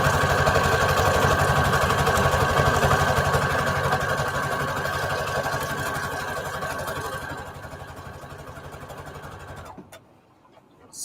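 Sewing machine stitching lace onto index cards with a different stitch, a steady rapid mechanical whirr running loud and close for about ten seconds before stopping abruptly.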